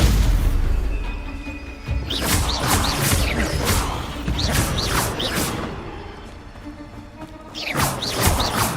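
The Stupefy spell is cast during Hogwarts Legacy gameplay, producing loud booming impacts and crashing bursts over a busy game soundscape, with several whooshing strikes in a row.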